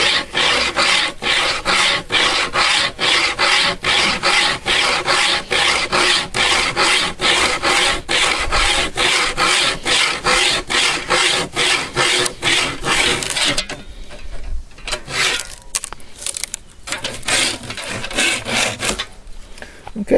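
An improvised bow saw with a willow frame cuts through a piece of dead wood about an inch thick, giving a steady, rapid rasping rhythm of close back-and-forth strokes that slows and becomes irregular near the end.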